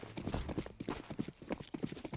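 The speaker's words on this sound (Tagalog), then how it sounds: "May kabayo." Horse hooves clip-clop rapidly in the video game Counter-Strike 2, a quick, uneven run of sharp close hoofbeats continuing throughout without speech.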